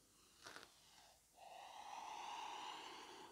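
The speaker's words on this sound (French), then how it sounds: "Vous pouvez prendre une dernière respiration." A deep breath during a yoga session: a short sharp inhale, then a long steady exhale that carries on to the end, close and soft, with no talking.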